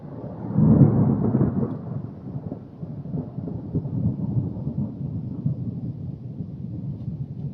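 Thunder from a nearby lightning strike right above a house during a thunderstorm: a loud, close crack swells into a heavy, deep rumble that rolls on steadily for several seconds.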